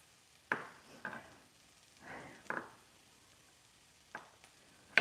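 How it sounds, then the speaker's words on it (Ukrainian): Quiet sizzling and crackling in a pan, broken by a few sharp clinks and scrapes of a utensil stirring. "вже там шкварчить"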